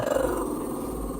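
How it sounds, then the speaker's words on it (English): A dog growls and barks close by, a short, low, steady rumble of sound heard on its own. "Is that who you're barking at?"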